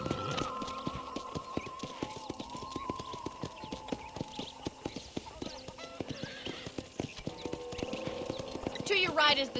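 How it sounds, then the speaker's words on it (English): A horse ridden in Red Dead Redemption clip-clops with steady, rhythmic hooves and lets out a whinny, while a voice talks over the riding. "let's see if you can still ride a horse"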